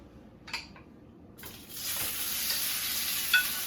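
Diced tomatoes drop into a hot pan and a bright, steady sizzle rises suddenly, holding loud and close, with a brief stirring clatter just before and a small pop near the end.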